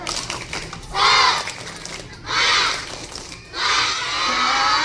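Elementary school children do a group spirit chant in a classroom, with three loud, rhythmic bursts of shouting spaced a little over a second apart and quieter murmuring in between.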